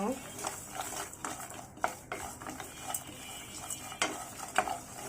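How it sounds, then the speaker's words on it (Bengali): Dry-roasted spices for Mejbani beef stirred in a pan, a faint dry sizzle under intermittent scraping and light clinks of a utensil against the pan, fairly quiet and close. "আমি এটা কয়েক সেকেন্ড নেড়ে নিব"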